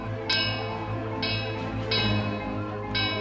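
A bell in an animated cartoon is pulled and rung, giving four bright metallic strikes spaced about a second apart over a steady background hum.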